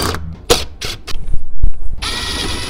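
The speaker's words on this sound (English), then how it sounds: "Go ahead and remove these four Phillips screws here." Phillips screws being backed out of an interior dash panel on a Mazda MX-5 Miata during a radio install, heard as a few short clicks and scrapes of a hand tool close up, then a broad rushing noise near the end.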